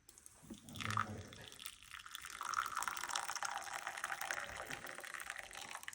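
Boiled water is poured out in a steady, splashing stream that rises after the first second and runs on, moderately close but fairly faint, with no speech.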